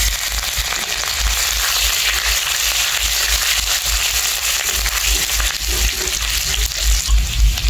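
Cumin seeds and chopped ginger fry in hot oil with a loud, dense crackling sizzle that pops continuously throughout, close and unbroken.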